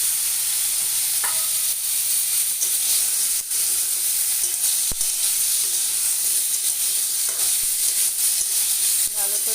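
Potato pieces sizzle and fry steadily in hot oil in a pan for pumpkin-greens curry, a continuous bright hiss with occasional stirring scrapes and faint clinks, close and alone throughout.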